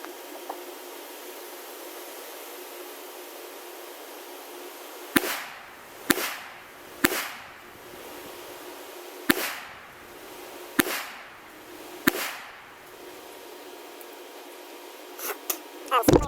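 Several sharp gunshots from a Smith & Wesson Bodyguard 380 micro compact pistol, fired outdoors at close range against steady background hiss, come in an uneven sequence of about seven shots with short echoing tails.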